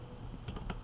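Several quick, soft keystrokes tap on a computer keyboard in a short burst, faint and close, with no voices.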